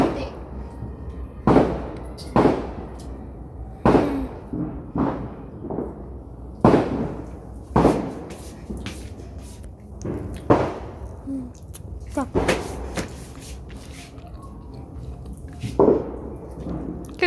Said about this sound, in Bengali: সব বাজি ফাটাচ্ছে নিউ ইয়ারের জন্য।